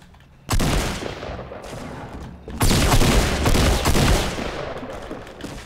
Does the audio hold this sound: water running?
no